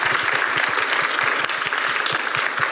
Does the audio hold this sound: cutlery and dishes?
no